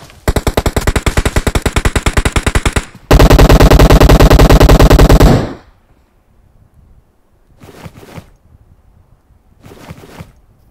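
Automatic gunfire in the video game PUBG Mobile: a rapid rattling burst followed by a louder, denser sustained stream of shots, then near silence broken by two brief shuffling noises.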